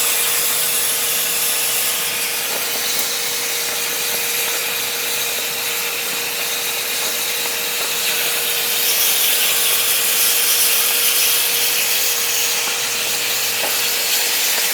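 A Langmuir Crossfire plasma table cutting through metal, a steady loud hiss and rush of the torch with a faint constant tone, continuous without breaks and no voices.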